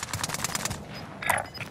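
Rapid bursts of gunfire from the Call of Duty Warzone Verdansk map, a quick string of shots followed by a short, fainter burst, all close and fairly quiet.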